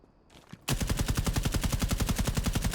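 An AK rifle with a compensator fires fully automatic in Rainbow Six Siege, used by the operator Nomad: a loud, sustained burst of rapid, evenly spaced shots that starts abruptly and runs about two seconds, with no talk over it.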